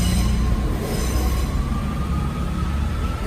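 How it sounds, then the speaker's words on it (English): A train rumbling over a bridge overhead, with a steady loud roar of rolling wheels and a faint high squeal throughout, heard from street level below with no talk over it. "Apologies for the train going over the top."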